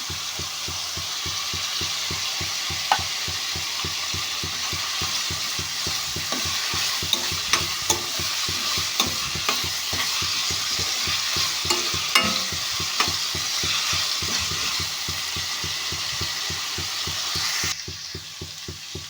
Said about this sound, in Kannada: ಈಗ ಇದಕ್ಕೆ ನಾನು ನೆನೆಸಿಟ್ಕೊಂಡಿರೋ ಕಡಲೆಬೇಳೆ ಕೂಡ ಹಾಕ್ಕೊಳ್ತಾ ಇದ್ದೀನಿ